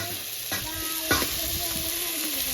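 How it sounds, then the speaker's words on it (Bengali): Spice paste with two medium tomatoes and potatoes being stirred and sautéed in a pan for a silver carp fish curry, giving a steady close sizzle with a few louder scraping stirs. "সঙ্গে খুব ভালো করে মশলাটা কষাবো।"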